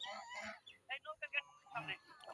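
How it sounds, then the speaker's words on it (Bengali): Domestic geese in a rural Bangladeshi village honk in a short burst of several quick calls, fairly close but quiet, with a voice speaking briefly between them. "রাজহাঁস কই?"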